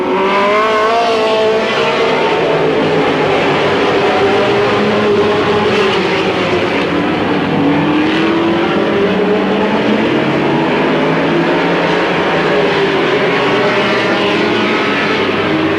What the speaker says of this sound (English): Late model sportsman out there on the track.